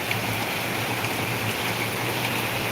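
Torrential rain in Ahilyanagar roars as a loud, even wash of noise with no pauses or other sounds.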